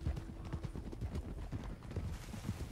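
Two wild Morgan horses in Red Dead Redemption 2, hooves clip-clopping in an uneven rhythm at moderate distance, fairly quiet, with no talk.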